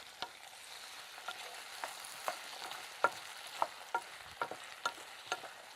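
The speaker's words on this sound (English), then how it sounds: "we can add the diced swede and the potato, and we can cook and stir for about 5 minutes" Diced onions, swede and potato frying in a pan while being stirred, with a steady low sizzle and a series of sharp spoon-against-pan clicks and knocks spread through the stretch.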